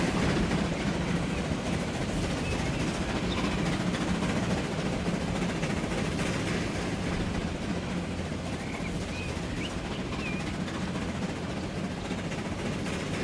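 A train in the Transport Fever 2 video game rolls along its rails in a steady, low, continuous rumble with a faint rhythmic clatter, quiet and even throughout.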